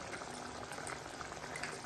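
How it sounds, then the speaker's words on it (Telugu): Tamarind juice pouring into a simmering fish curry (chepala pulusu), a steady, soft liquid splash and bubbling hiss, faint and continuous throughout. "ఇప్పుడు చింతపండు రసాన్ని యాడ్ చేస్తున్నాను"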